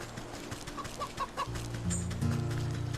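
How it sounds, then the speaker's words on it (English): Pheasant clucking in the video game Wytchwood, a run of short clucks over a steady humming game soundtrack, moderately loud, with no talking. "I hear chicken."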